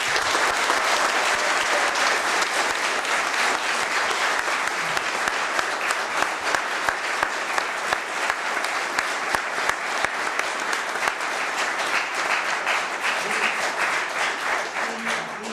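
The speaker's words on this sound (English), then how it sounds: "Have a round of applause, please." Sustained applause from a large audience, steady and dense clapping throughout, with a few sharper claps standing out near the end.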